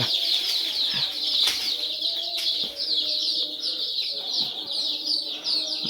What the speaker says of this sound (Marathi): एकदम फ्रेश पिल्ले आहेत